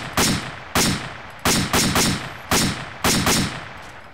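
Gunfire in a shooter game: seven sharp, echoing shots fired singly and in quick pairs over four seconds, each trailing off in a reverberant tail.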